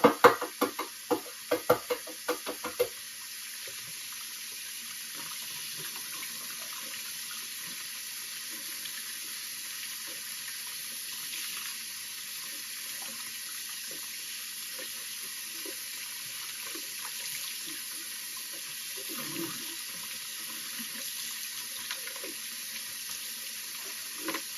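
Tap water running steadily into a sink while eggs are rinsed, a soft continuous stream after a few close knocks and clatters at the start; no talking.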